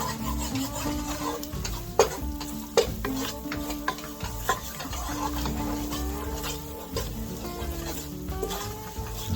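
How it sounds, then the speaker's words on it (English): A spoon stirring a roux of flour in a pot, repeated scraping and soft sizzling with a few sharp knocks against the pot, steady and close. "we're just going to stir that until it's smooth. Yep, we're making a roux."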